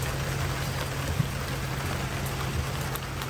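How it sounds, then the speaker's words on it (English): Steady rain pours down outdoors near dumpsters, forming an even, continuous hiss of dense droplets with a low hum underneath and no speech. "This rain is horrible."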